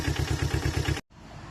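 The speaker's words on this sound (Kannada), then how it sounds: "ಇದು ಮೆಗಾ ಗಾಡಿ, ಇದು ಮೆಗಾ ಟಾಟಾ ಇಂಜಿನ್ ಇದು." A Tata Mega vehicle engine runs in a close, loud, even rhythmic chug that cuts off abruptly, followed after a moment by quieter engine running.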